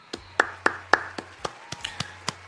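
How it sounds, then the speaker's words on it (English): A round of applause from a small group, about ten sparse claps in an uneven rhythm, faint and with no talk over them. "Let's give a round of applause"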